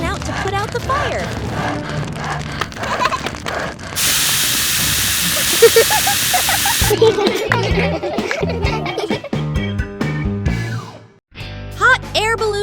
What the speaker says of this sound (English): Sister Pig found the fire extinguisher and ran out to put out the fire.